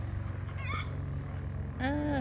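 Farm chickens give two brief calls, one early and one at the end, over a steady low hum in the background.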